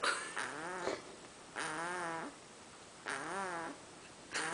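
Loud, close snoring from a sleeping child: three drawn-out, throaty snores in a regular rhythm, each separated by a pause, with no talking.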